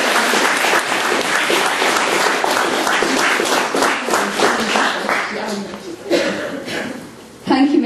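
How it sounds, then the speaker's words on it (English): Applause from an audience at a library creative writing open mic follows a reading, with dense steady clapping that thins and tapers toward the end before a final short burst. "2 rounds of applause"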